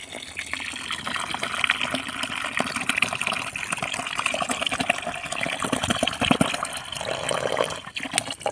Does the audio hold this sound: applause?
no